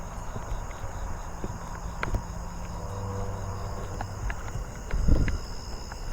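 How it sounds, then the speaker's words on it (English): A Japanese burrowing cricket chirps outdoors at night in a neighborhood, a steady high pulsing trill in the background, with a few soft thumps and footsteps nearby. "I'm hearing another Japanese burrowing cricket"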